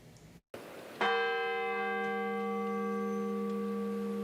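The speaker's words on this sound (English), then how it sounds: "the ringing of the McDowell County Courthouse bell filled the air of downtown Welch" McDowell County courthouse bell in downtown Welch rings out once, a loud, clear metallic strike with a long, slowly fading resonant hum that sustains for several seconds alone.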